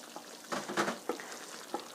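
Thick chicken curry sauce bubbles in a pot while a spoon stirs it, making soft scraping swishes and gentle popping in a few uneven bursts over a quiet simmering hiss, close and with no talking.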